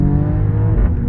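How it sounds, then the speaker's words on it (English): A 2021 Mercedes-AMG GLE 53 engine accelerates hard in a loud, close, continuous roar that rises in pitch, with no talking. "the engine builds so nicely and then spits every time it changes gear"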